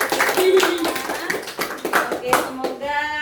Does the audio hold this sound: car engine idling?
no